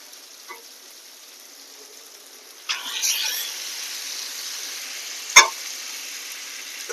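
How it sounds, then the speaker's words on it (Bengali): Marinated chicken goes into a pan of well-fried spiced masala for gandharaj chicken. After a quiet start, a sudden burst of steady sizzling rises and carries on, with one sharp click partway through. "এবার এর মধ্যে দেবো আগে থেকে মেখে রাখা, ম্যারিনেট করে রাখা চিকেনটাকে দিয়ে দেবো"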